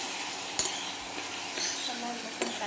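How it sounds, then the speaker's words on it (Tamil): Chicken liver frying in a pan is stirred with a utensil, a soft steady sizzle broken by a few faint scrapes and clinks against the pan, fairly quiet and close. "இதை நல்லா கிண்டணும்."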